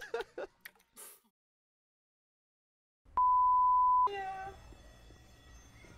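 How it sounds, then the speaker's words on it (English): A video game alarm sounds as a single steady electronic tone lasting about a second, then gives way to a denser game soundscape with layered tones; faint voices come just before it. "I got the alarm."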